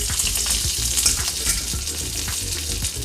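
Red chillies, tamarind and dried coconut dry-roasting in a pan for an Andhra-style thotakura ullikaram, giving a steady close crackle and hiss with light scraping taps throughout.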